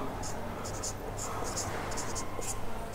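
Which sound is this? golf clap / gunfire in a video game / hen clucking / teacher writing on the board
teacher writing on the board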